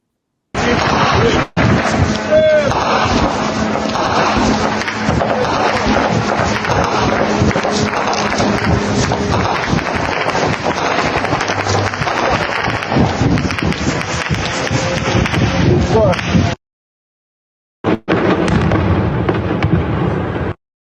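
Continuous crackling and booming explosions in Belgorod region, Russia, with a siren, roll on for many seconds, dense and loud, then cut out briefly before resuming.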